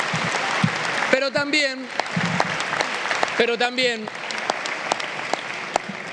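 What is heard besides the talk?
applause in Argentine Congress session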